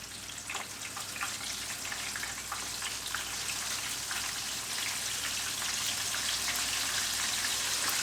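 Buttermilk chicken pieces frying in a pan of hot, bubbling oil, giving a steady, dense sizzle and crackle close by with no pause and no talking.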